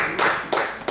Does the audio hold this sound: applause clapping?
yes